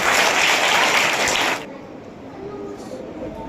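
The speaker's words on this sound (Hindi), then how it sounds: "उनके लिए भी एक बार और ताली चाहूँगा।" Loud, dense applause from an audience at a children's cluster gathering, honouring the Bhatpuri cluster for third place, sustained for about a second and a half before cutting off abruptly into quiet room tone.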